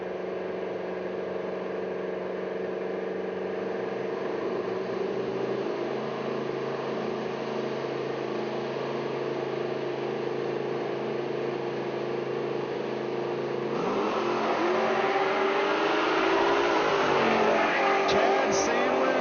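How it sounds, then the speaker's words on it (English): A little pickup truck launches down a drag strip at a footbrake bracket race, its engine roaring steadily and rising to a louder, harsher surge near the end, with an announcer's voice running over it throughout. "Chad Sandlin into the 695 in a little pickup truck right side"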